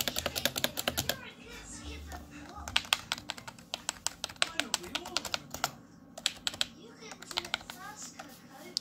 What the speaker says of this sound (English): Nowhere are these mechanical feeling keys. I'm sorry to say, they're more like membrane keys.